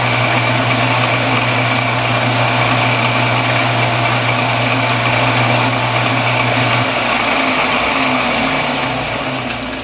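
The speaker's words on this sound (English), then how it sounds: "I just took a spring cut. Just going to put a tiny chamfer on." A metal lathe turns a crank pin held eccentrically in a four-jaw chuck while a tiny chamfer is cut, a loud steady motor hum with a low drone that drops away near the end, no speech.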